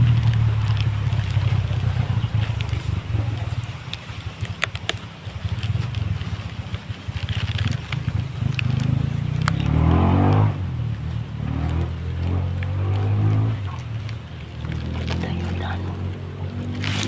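Motorcycles pass along a road, a steady engine drone swelling and fading as bikes go by, with a few voices nearby.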